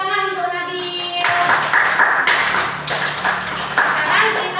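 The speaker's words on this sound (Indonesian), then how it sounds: "Tepuk tangan untuk Nabil" Classroom applause for a student after a correct answer, a short burst of many hands clapping that fills the room at close range, with a faint tonal ping at the start.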